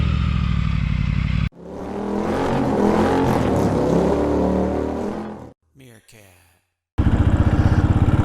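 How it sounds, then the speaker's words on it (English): A five-year-old Royal Enfield 500 motorcycle engine cranks and roars to life, running loudly for about four seconds before cutting out, with a voice speaking before and after. "as soon as I figure out how to start my motorcycle,"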